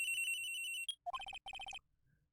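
Telephone ringing in the Ace Attorney: Trials and Tribulations video game, a sustained electronic ring followed by two quick bursts of rapid beeping tones, clear and alone.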